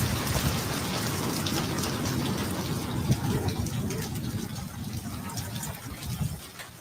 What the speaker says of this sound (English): We got caught in the rain.